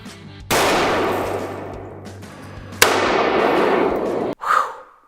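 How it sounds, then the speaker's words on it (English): A soda can cannon fires with a loud blast through a broken van window, followed by a long roaring rush, then a second sharp bang and more rushing before a sudden cutoff. "I'm gonna see if I can shoot the soda can through it now that it's all broken."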